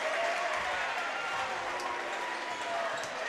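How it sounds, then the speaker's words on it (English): A home crowd roars and applauds at a Byron Tigers versus Stillman Valley Cardinals basketball game, a loud, steady wash of cheering in a gym with a commentator talking over it. "Matthew Perkins from distance knocks it down as the Byron crowd goes crazy."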